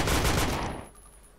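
A short burst of rapid gunfire from a shooting video game cracks loudly for about half a second, then trails off into quieter room noise.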